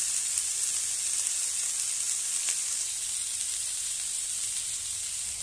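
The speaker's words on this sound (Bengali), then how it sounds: "এটাতে আমি আলু আর ফুলকপিটা ভেজে নেব" Potato and cauliflower fry in oil left over from frying fish, giving a loud, steady, close sizzle that hisses without pause.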